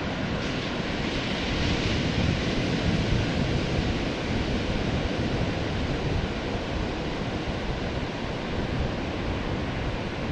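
Ocean waves at a beach in Morro Bay, California: a continuous, loud wash of surf and wind with no clear breaks, steady throughout with no voices.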